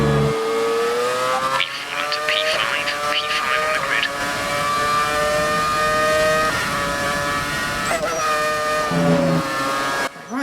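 A 2009 Brawn GP Formula 1 car in the F1 2018 game, its high-pitched engine wailing steadily up through the gears with brief shift dips and a tire squeal, while a voice talks over the engine note.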